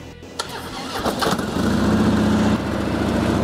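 A 2012 Harley-Davidson Road King Classic cranks briefly and fires up, settling into a loud, steady, close idle rumble with no talking.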